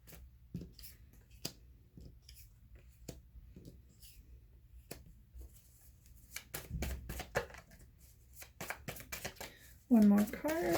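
Tarot cards shuffled by hand in a series of sharp riffling bursts and snaps, close and fairly quiet, with a louder rush of shuffling near the end and talking around it.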